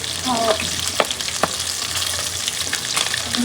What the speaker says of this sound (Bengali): পেঁয়াজ দিয়ে অল্প মশলা দিয়ে ভুনা করে করি